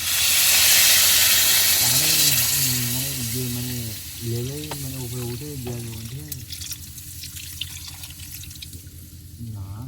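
Water pours into a hot pan of sizzling spiced curry cooked on a boat in the Sundarbans, a loud hissing rush that fades into softer bubbling while a voice talks over it.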